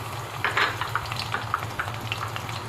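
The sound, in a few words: cumin and crushed garlic frying in oil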